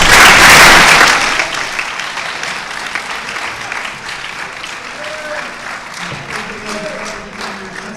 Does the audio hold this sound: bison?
no